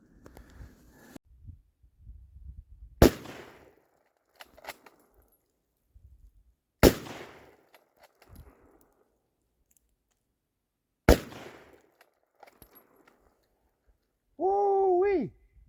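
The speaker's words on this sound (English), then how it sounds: "now I'm going to go shoot some bottles up close and see how it works there" Three sharp, loud Lee-Enfield Mark 4 rifle shots fired outdoors at bottles at close range, each followed by a short decay and scattered small impacts, widely spaced, with a brief voice at the end.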